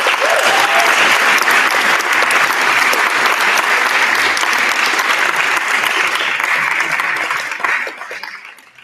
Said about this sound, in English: So one more round of applause for everybody.